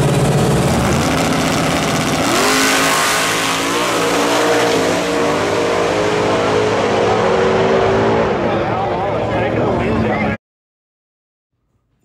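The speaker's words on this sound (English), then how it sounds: "We got the dad, Al Wallace, kicking Michael Wallace out of the driving seat of this beautiful Cobra" A Cobra drag race car engine at a drag strip, a loud, sustained rumbling roar with shifting pitch that cuts off abruptly, heard under an announcer's voice.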